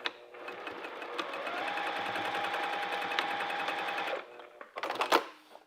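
A sewing machine stitches fabric for boxed corners, running in a steady close whir for about four seconds before stopping, followed by brief handling clatter.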